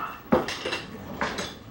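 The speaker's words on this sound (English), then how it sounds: "I'm going to stir this up." Lentils are stirred in a pot, producing a few close, brief scraping and clinking strokes of a utensil against the pot, with two clusters of contact sounds over quiet background.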